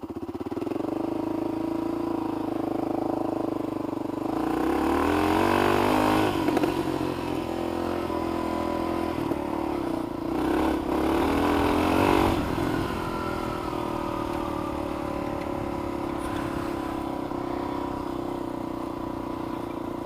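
A Kawasaki KLR motorcycle runs on a long ride out into the backcountry, its engine droning steadily and loudly up close, rising in a rev swell around the middle before settling into an even hum.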